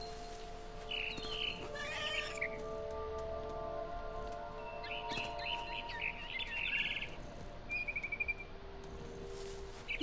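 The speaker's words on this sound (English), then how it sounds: "Then I heard chirping outside my window. It was a barn swallow going back to her nest." A barn swallow chirps and twitters in short bursts from a video game, with high bright calls coming and going over a steady hum and faint ambient background.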